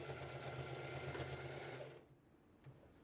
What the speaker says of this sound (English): I also backstitched at the beginning and end of each corner seam to keep everything secure.